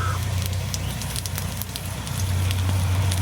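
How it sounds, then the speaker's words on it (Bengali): Bay leaves and dried red chillies frying in hot oil left from frying katla fish, a steady close sizzle and crackle throughout that swells louder toward the end. "মাছ ভাজা তেলের ভিতর তেজপাতা শুকনো লঙ্কা দেব"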